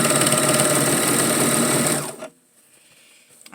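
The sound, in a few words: sewing machine stitching a sleeve to a dress bodice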